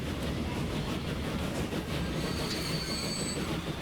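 Trains rumble along the tracks in the video game Transport Fever, a loud continuous roll of wheels with clickety-clack and a thin wheel squeal rising partway through, no voices over it.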